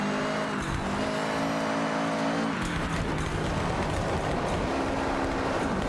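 A car in Forza Horizon 6 skids out after too much e-brake. The engine drones loudly and shifts pitch, with broad tire scrub and squeal running continuously throughout.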